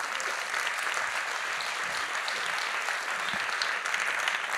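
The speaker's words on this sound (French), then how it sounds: "vous applaudirez Erwan Leduf qui va nous rejoindre" An audience at the fourth edition of a 2018 Talk event claps steadily to welcome Erwan Le Duff, a dense, even burst of applause lasting several seconds.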